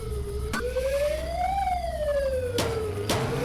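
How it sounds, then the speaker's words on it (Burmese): An ambulance siren wails along a road in a village or town, its tone sweeping up and then down, moderately loud, with a couple of sharp knocks over the traffic rumble. "တနေ့လုံးငါဒီလူနာတင်ကားတွေအတန်တွေပဲကြားနေရပြီ"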